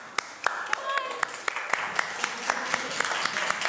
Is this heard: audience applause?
yes